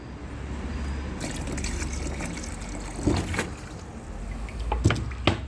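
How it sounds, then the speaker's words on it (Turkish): Water poured into a clogged sink drain treated with chemical drain opener, a steady close splashing and trickling with a few louder gushes toward the end. "Şöyle biraz daha su koyalım. İyice aşağı doğru insin pislik."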